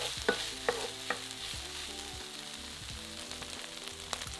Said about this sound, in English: fry for about 5 to 6 minutes, breaking up the sausage meat with a wooden spoon until brown